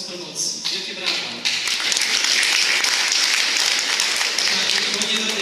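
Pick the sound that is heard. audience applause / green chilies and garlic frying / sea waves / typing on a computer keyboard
audience applause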